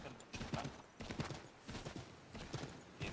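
Horse hooves clip-clopping in the video game Assassin's Creed 3, a steady trotting rhythm of muffled thuds over ambient game sound, moderately close.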